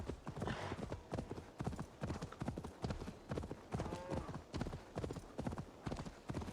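Horse hooves clopping in a steady rhythmic gait in Assassin's Creed Valhalla, close and clear, with a brief whinny-like tone partway through.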